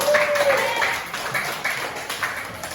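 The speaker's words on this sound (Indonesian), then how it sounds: "mari kita beri aplaus dulu untuk semua kelompok ya" Applause from a classroom of students for all the student groups, a steady wash of clapping mixed with chatter and a few voices.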